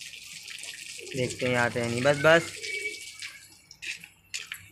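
Water pours in a steady, hissing stream throughout, while someone talks loudly over it partway through and calls out briefly again near the end.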